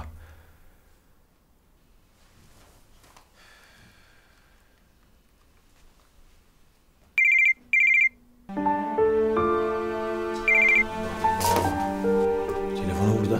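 A phone ringtone chimes in two short bursts after a quiet stretch, then a melodic ringtone tune plays loudly, close by, with soft rustling.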